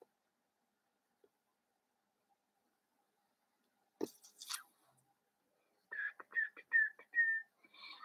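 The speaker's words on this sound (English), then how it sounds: "I can never whistle, and then when I don't want to whistle, I whistle." Short whistled notes come as a Tourette syndrome tic, a few brief thin tweets in a row following soft mouth and breath sounds, close and quiet in an otherwise silent room.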